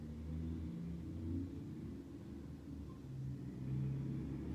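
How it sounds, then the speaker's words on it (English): Faint, distant traffic from a busy road beside a yoga studio forms a low, continuous rumble with slight swells as vehicles pass, and no voices. "The studio is next to a busy road, so you may be hearing some traffic"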